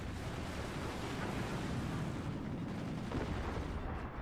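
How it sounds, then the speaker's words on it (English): In the strategy game Forts, a howitzer shell strikes armor with a broad, rumbling impact, a dense noisy boom that lingers loudly before tailing off. "Howitzer crashes into Pile's blade of armor, dealing no damage."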